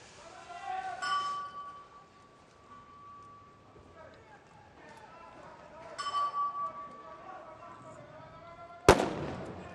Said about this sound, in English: First shots are away from the snipers on the shorter of their two challenges